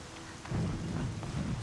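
Heavy rain in the video game Horizon Zero Dawn, a dense steady downpour hiss with low rumbling surges, loud and continuous throughout.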